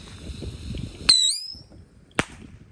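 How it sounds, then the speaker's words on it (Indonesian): A mini rocket firecracker is set off, giving a sharp whistling squeal that bends downward and then a single loud crack, with faint background noise before it. "Selanjutnya kita nyalakan mercon roket mini guys."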